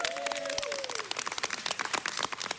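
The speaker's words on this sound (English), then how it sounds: "Let's give Geneva a round of applause" Audience applause for a guest at a community event, dense steady clapping filling the whole stretch with a brief tonal whistle-like sweep near the start.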